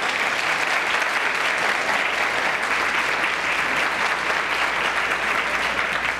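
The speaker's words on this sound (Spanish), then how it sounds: "Estos son nuestros invitados, para quienes pido un fuerte aplauso" Loud, sustained applause from a large audience welcoming guests at a panel discussion, steady and dense throughout with no talking over it.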